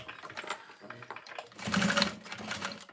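A sewing machine stitches a square pattern onto a fold-over bag in quick, rattling bursts, the needle's rapid clatter rising and easing as it runs close and fairly loud.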